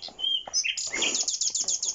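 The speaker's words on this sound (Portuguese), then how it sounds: "durante o percurso podemos escutar o canto dos pássaros" Birds chirp and sing in quick repeated tweets along a mountain trail in the volcanic Estérel massif, with a rapid series of close, bright notes near the end.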